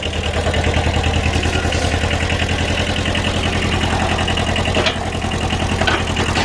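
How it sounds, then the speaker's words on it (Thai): A small two-cylinder Kubota diesel engine in an old Japanese TCM 343 wheel loader idles steadily and loudly up close, with a constant rhythmic low chugging throughout. "เป็นเครื่องยนต์ดีเซลสองสูบนะครับของตูโบต้านะ"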